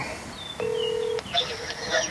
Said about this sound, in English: So I'm going to phone a friend real quick.